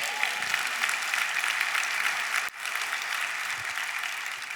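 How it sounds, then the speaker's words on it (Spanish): A church congregation applauding during a sermon, dense steady clapping from many hands filling the room, loud and sustained with a brief dip midway, no speech over it. "Dale un aplauso a Cristo."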